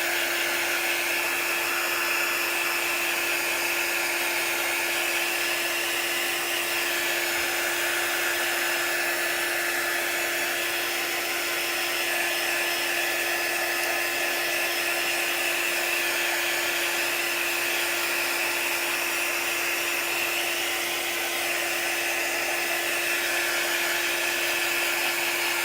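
A hair dryer blows steadily on freshly applied vanilla chalk paint, a continuous whirring roar with a high whine that holds close and loud for the whole stretch, with no talking over it.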